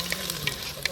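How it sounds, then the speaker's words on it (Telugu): Ginger-garlic paste fries in a pan with a steady soft sizzle and a few quick scraping stirs, close and moderately quiet. "ఇప్పుడు ఈ అల్లం వెల్లుల్లిపాయ పేస్ట్ కొంచెం పచ్చి వాసన పోయే వరకు ఫ్రై చేసుకుందాం."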